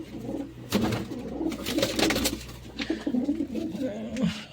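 Domestic pigeons, among them a white-eyed bird and a speckled hen, coo in a loft, their low throaty murmurs repeating close by over a faint background rustle.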